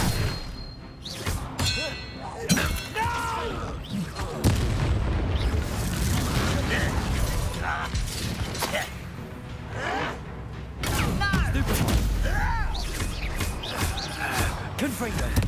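Confringo fire spell cast in Hogwarts Legacy, a blazing magical blast with clanging, booming impacts repeating through a busy duel, loud and dense, mixed with other spell effects and excited voices.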